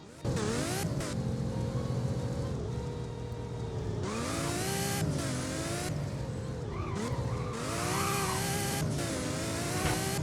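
An Apollo Project Evo car drives in the Roblox game Driving Empire, its engine droning loudly and continuously, with rising and falling revs and tire squeal layered over it.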